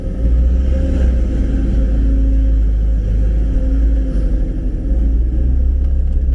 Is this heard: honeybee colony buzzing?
no